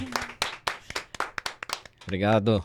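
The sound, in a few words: audience applause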